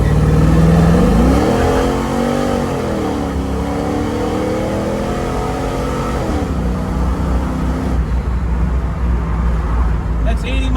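A 1967 Chevrolet Camaro SS with an LS engine and 4L60 transmission revving hard under acceleration, the loud engine note rising, dipping at a shift, then climbing again, with voices over it.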